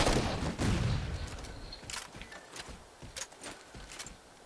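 Gunfire in the Halo 4 multiplayer game, a loud burst at the start followed by a scattered series of sharp shots and impacts, moderately close, with no voices.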